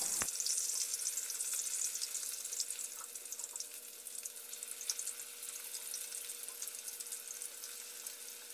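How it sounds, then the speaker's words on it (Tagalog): Eggplant fries in a pan with a steady, crackling sizzle that carries on quietly without a break. No one speaks. "magprito tayo ng talong"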